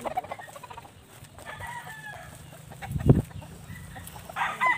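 Chickens and roosters on a farm, fairly faint clucking and crowing with a louder burst midway, while someone talks quietly at times.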